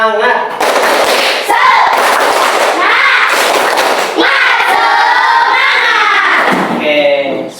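A classroom of students performs a rhythmic 'tepuk semangat' clapping chant, sharp claps in patterned bursts mixed with loud group voices chanting along, filling the room for several seconds.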